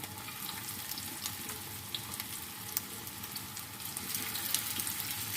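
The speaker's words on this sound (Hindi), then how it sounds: "ऑयल में हम कबाब को फ्राई कर लेते हैं।" Minced meat kebabs frying in hot oil, a steady close sizzle and crackle running throughout with small pops and a slight rise toward the end.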